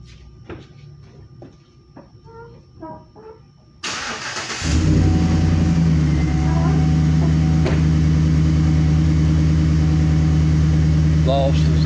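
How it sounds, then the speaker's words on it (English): A car engine with a modified exhaust cranks and catches, then settles into a loud, steady idle with a deep rumble, after some quiet handling noises. "I'm going to go ahead and start the vehicle"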